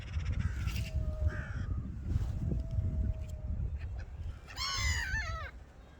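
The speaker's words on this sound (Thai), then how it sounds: "ชมนกนะคะนกอีกา นกนางนวลค่ะ กินอาหารนะคะ" Several crows caw outdoors among feeding gulls, harsh repeated calls at moderate distance over a rumbling background, with a louder burst of cawing near the end.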